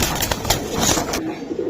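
Giribaj pigeons, young birds in a loft, coo in a brief, close sequence of low, throaty calls that last about a second before fading into quieter background.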